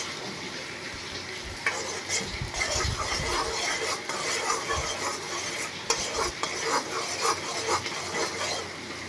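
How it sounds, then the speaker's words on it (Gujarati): Jaggery melts and bubbles in a pan while being stirred for a Gujarati sweet, giving a steady close-up sizzle with soft scraping and clinking spoon strokes throughout. "આપણો ગોળ એકદમ સરસ ઓગળવા લાગ્યો છે અને બબલ્સ પણ આવવા માંડ્યા છે"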